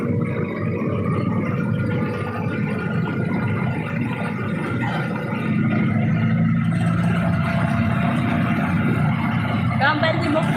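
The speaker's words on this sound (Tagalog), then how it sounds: "Maingay yung tunog ng sasakyan." Steady car and truck traffic roaring along a busy main road, a dense continuous rumble with vehicles passing close by, with a voice talking over it.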